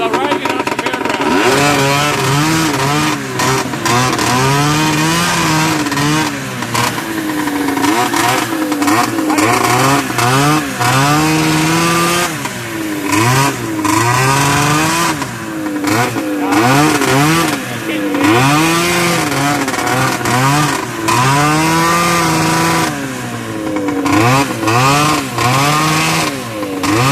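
A 377 Olympique motorcycle is ridden around a yard, its engine revving up and down in repeated loud surges and dips, close by and continuous.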